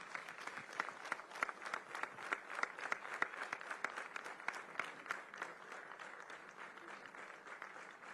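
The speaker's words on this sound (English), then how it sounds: "May I request for a thunderous applause as we honor a true titan of the Indian legal fraternity" A hall audience gives a legal veteran sustained applause at a bar association's 160th anniversary celebration, dense even clapping carrying on steadily the whole time.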